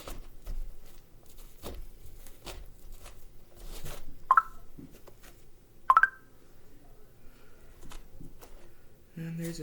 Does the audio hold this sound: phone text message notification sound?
yes